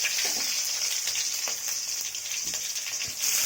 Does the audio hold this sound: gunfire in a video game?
no